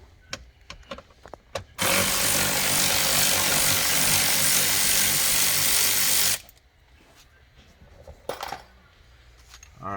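A power tool whirs steadily for about four seconds while backing out 7mm screws from a dashboard panel on a 2000 Buick LeSabre, with scattered clicks and taps of handling before and after.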